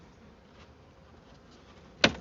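Honey bees humming around a small swarm in a hive, a faint continuous buzz near and steady, broken at the end by one sharp knock or tap.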